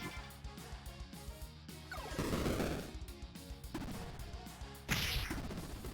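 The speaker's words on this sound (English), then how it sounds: "Good magic missile." A magic missile spell in a fantasy RPG, a whooshing cast followed by heavy thwacking impacts and a crash-like hit, several bursts over a steady game soundtrack.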